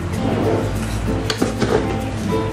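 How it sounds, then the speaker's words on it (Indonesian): Clinking and scraping of a spoon against a Teflon nonstick pan as eight tablespoons of granulated sugar go in, a steady close kitchen clatter with a few sharper metallic taps. "Tambahkan 8 sendok makan gula pasir ke teflon."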